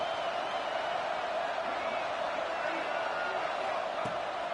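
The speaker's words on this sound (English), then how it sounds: "Guns up, and so is the noise. The crowd electric trying to help Tech on this third down." Stadium crowd noise in the video game College Football 26 during a Texas Tech third down against Colorado, a dense, steady roar that holds at one level throughout, with indistinct voices blended into the din.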